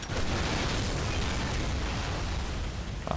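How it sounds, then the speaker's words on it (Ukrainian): A grenade blast in Call of Duty 4: Modern Warfare, heard as a loud, dense roar of explosive noise that fills the whole stretch without letting up, with no voices. "Граната."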